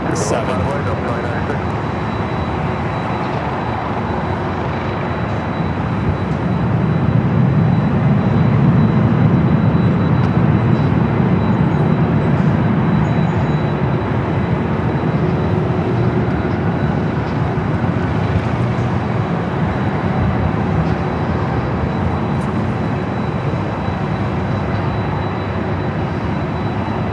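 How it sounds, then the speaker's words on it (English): A Delta Boeing 767-300ER jet airliner at LAX takes off from runway 24 left with a steady, broad roar that swells in the middle and holds throughout. Radio or tower voices talk over it. "Delta 2267 on SL Ray, runway 24 left, super takeoff"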